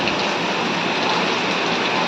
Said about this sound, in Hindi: देखिए बारिश, मतलब एक्सट्रीम लेवल में बारिश हो रही है